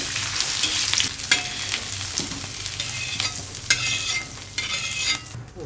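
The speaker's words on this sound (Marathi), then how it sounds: "बटाटे कापून फ्राय करून घेतलेले" Cut potatoes fry in hot oil with a constant crackling sizzle, broken by a few sharp clinks of a utensil stirring and scraping in the pan, close and steady throughout.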